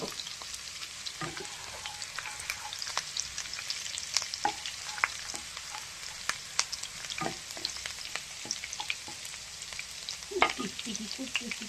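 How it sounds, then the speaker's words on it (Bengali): Onions sizzle in a frying pan, a steady crackling hiss with frequent sharp pops and occasional stirring scrapes, close and continuous with no talk. "পেঁয়াজটা লাল করে ভাজা হয়ে গেছে"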